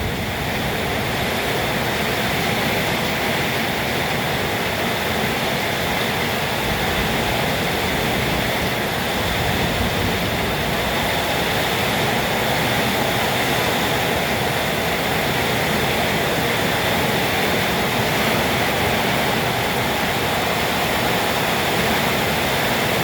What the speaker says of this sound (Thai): ลมก็มาฝนก็มาฟ้าก็มาครับ